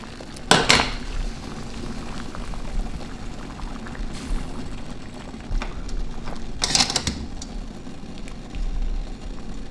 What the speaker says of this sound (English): I decided to chuck this one into the boiling water for a bit.